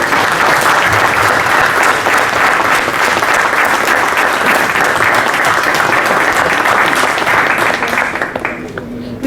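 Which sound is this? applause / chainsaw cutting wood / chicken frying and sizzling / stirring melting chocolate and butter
applause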